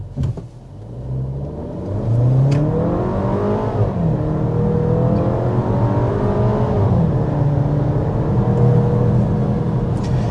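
A 2026 Volkswagen Tiguan with a turbocharged engine of about 268 hp is held on the brakes and revved. The engine note climbs and then holds a steady, strained drone for several seconds, heard from inside the cabin.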